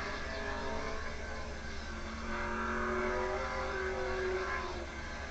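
Race car number 39 at a 1986 dirt-track event at Bridgecity Speedway pulls off the track, its engine a steady, fairly distant drone with a rising swell in pitch midway through, mixed with broad crowd and track noise.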